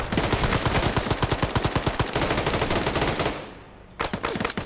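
Automatic gunfire in a competitive video game match, rapid evenly spaced shots rattling loud and close for about three seconds, a short lull, then another burst resuming.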